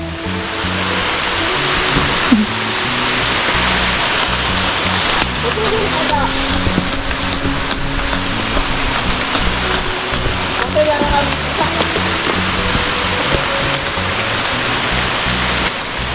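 Heavy rain pours down in a dense, loud roar over a lanzones orchard. Voices talk and call out underneath it.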